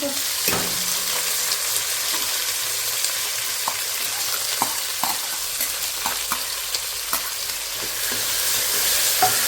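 Chopped onion sizzles in a hot pan for a home-style pumpkin curry, a steady, fairly loud frying hiss broken by scattered clicks and scrapes of a spoon stirring.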